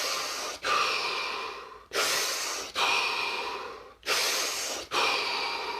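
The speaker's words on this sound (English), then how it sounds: "Take 3 deep breaths." A person takes three slow, deep breaths in a quiet room, each a long airy inhale followed by a release, spaced evenly apart and heard close and alone.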